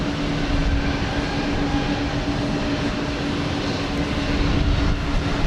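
An American Airlines Boeing 737-800 jet takes off at Houston Intercontinental, its engines producing a steady, moderately loud roar with a low hum throughout and no talking.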